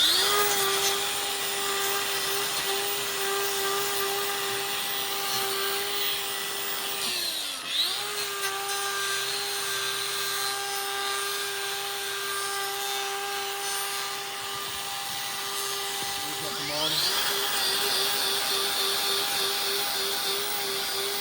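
Angle grinder trimming overgrown hooves, a steady high whine running nearly continuously, dipping briefly in pitch twice as the disc loads against the hoof, then recovering.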